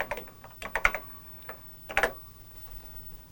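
A few quiet, scattered keystrokes tap on a TRS-80 computer keyboard during a classroom network demo, arriving in a short cluster and then a lone pair of clicks.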